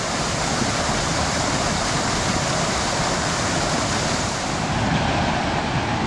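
Steady, dense rush of water churning in a pool at Step Falls, Grafton Notch State Park, a constant loud roar with no breaks, like standing right beside a cascading waterfall.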